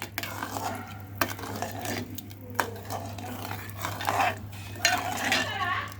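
Wheat rava being stirred with jaggery, sugar and a little salt in a pot, a run of scraping and clinking strokes of a spoon against metal over a low steady hum, close and fairly loud.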